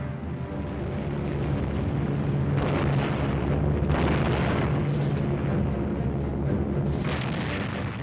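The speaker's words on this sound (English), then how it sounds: "RAF bombers and fighters pounded Japanese positions." Wartime RAF bombers and fighters pounding Japanese positions: a continuous roaring rumble of blasts and engine drone, with several heavier booms standing out at intervals, loud and dense throughout.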